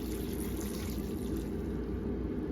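Water pouring into a pot of beans with smoked turkey and onions, a continuous close splashing trickle that runs steadily without pause.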